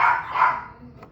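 Pet dogs bark indoors, a couple of close sharp barks followed by a faint whimper, heard briefly on their own.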